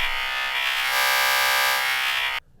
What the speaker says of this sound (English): this is the sound of the clap that is decomposed in many waves.